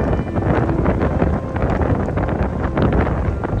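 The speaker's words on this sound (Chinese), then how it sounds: "虽然风很大" Strong wind buffets the microphone on a beach by the sea, a loud, continuous low roar with gusty rumbling that never lets up.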